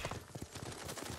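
Horse hooves galloping in the video game Ghost of Tsushima, a quick, close run of rhythmic clip-clop beats at moderate loudness with no talking.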